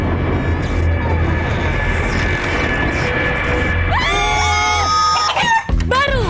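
A rooster crows loudly in a hot-chili instant noodle ad, a long wavering cock-a-doodle-doo near the end over a dense, noisy backing bed, with a few clucks around it.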